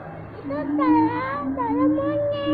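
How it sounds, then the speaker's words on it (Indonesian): A loud, wavering monkey call rises and falls in long, hooting glides, like primate whoops, repeated several times close by at a zoo. "suara monyet Suara monyet."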